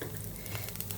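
Asafoetida (hing) frying in hot oil for rasam, a soft continuous sizzle and patter, faint and steady throughout a short moment.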